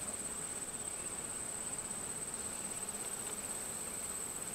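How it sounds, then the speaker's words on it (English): Bees fly in and out of a beehive entrance, a steady insect hum with a high whine carrying faintly and constantly throughout, without talk. "See that bee? That one. There's one coming in with yellow right there."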